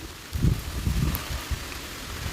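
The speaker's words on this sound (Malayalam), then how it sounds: "മഴയാണ്" Rain falls on a terrace vegetable garden, a soft steady patter with a few heavier low thuds of drops near the start, no voices heard.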